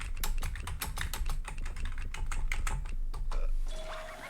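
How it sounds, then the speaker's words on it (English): Rapid keyboard typing in the You Don't Know Jack quiz game, a dense run of close, crisp keystrokes tapping continuously at an uneven pace, ending with a brief tone. "Start typing."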